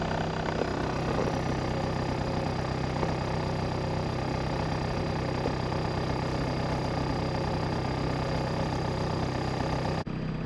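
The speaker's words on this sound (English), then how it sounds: "Idling right now at normal operating temperatures." Car engine idling steadily at normal operating temperature on new 1320 Performance 75A polyurethane motor mount inserts, a continuous close droning hum with no breaks.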